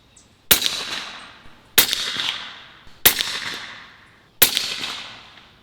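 Four sharp gunshots ring out, evenly spaced about a second apart, each a loud crack with a short echoing tail, fired while sighting in with a chronograph.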